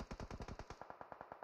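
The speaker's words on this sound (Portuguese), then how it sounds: "Olha a surra de bala ali agora" Automatic gunfire in PUBG Mobile rattles as a rapid, even burst of about a dozen shots, the first louder and heavier, the later ones lighter and more distant-sounding, with no voices.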